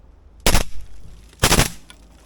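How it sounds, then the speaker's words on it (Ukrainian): Two short bursts of suppressed automatic rifle fire with a steel suppressor, each a quick rattling volley about a second apart, loud and close against a quiet background. "Декілька коротких черг."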